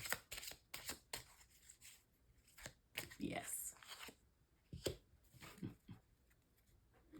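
Tarot cards being shuffled by hand, a series of quick riffling and sliding bursts with short pauses between them, close and fairly faint, while someone speaks quietly in between.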